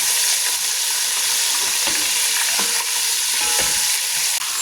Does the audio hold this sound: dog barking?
no